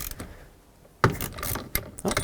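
Steering wheel puller's center shaft being cranked on a 1997-2003 Ford F-150, giving close, dry mechanical ratcheting clicks and metallic creaks in short uneven bursts after a quiet pause, with a sharp snap near the end.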